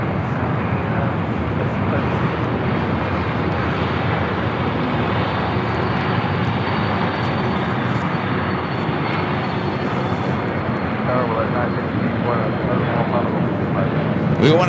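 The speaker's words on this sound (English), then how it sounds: "this is Coletta Air Flight 785 coming from Anchorage, the 747 400 freighter" A Boeing 747-400 freighter, Coletta Air Flight 785 from Anchorage, at LAX gives a steady, loud broadband jet roar that holds throughout, with voices talking over it.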